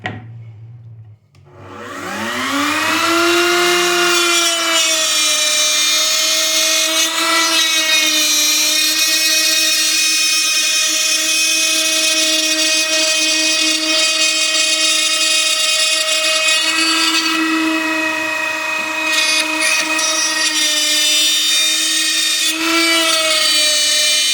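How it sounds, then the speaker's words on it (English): A router fitted with a 1/8 inch up spiral bit cuts an inlay in wood, spinning up with a rising whine and then holding a loud, steady high-pitched scream throughout, with no voices. "Now what I got is this is a 1/4 inch inlay, 1/8 inch up spiral bit. I'm going to do it partial at a time."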